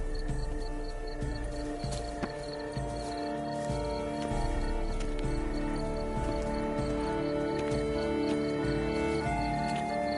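Horse hooves clop in The Witcher 3 video game, a soft rhythmic trotting beneath a steady bed of music and ambient game sound.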